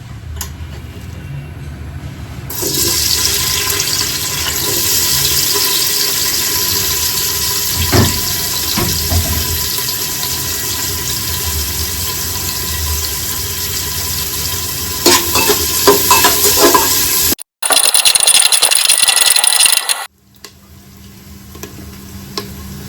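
Chopped onions sizzle loudly in hot ghee for bagara rice, a dense steady crackle with stirring scrapes that run for about fifteen seconds. A harsher burst follows before it drops to a quieter hiss.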